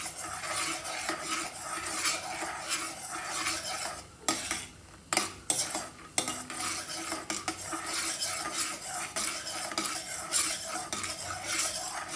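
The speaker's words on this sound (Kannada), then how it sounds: "ಈಗ ಕಡಲೆ ಬೀಜ ರೋಸ್ಟ್ ಮಾಡ್ಕೊಳ್ಳೋಣ." Peanuts roasting in hot oil for tamarind rice are stirred with a metal spoon in a pan, giving a continuous loud scraping and clinking over a steady sizzle, close and without talk.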